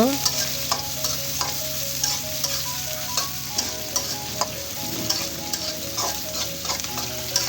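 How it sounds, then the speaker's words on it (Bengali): Garlic, green chili and onion sizzle steadily in hot oil while a utensil stirs and taps against the pan in irregular clicks. "এখন রসুন কাঁচামরিচ আর পেঁয়াজ আমি ভালো করে ভেজে নিব"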